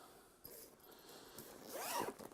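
A zip on a large black canvas bag is drawn open in one rising, rasping pull near the end, after some quieter handling and fumbling with the bag.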